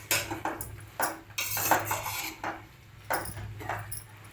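Macaroni being stirred in a pan over a medium flame for egg macaroni, with repeated clattering scrapes of a utensil against metal coming in bursts, fairly close and without talk.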